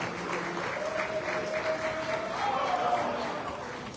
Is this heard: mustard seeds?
no